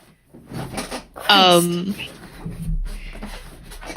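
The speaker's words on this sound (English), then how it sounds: "Closing the door." A door is pushed shut with a creak and a soft knock, while a person talks nearby.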